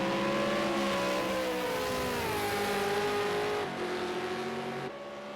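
V8 Supercars race around Bathurst in a racing video game, with a loud, continuous engine drone whose pitch rises and shifts as the cars accelerate, holding steady throughout with no talk.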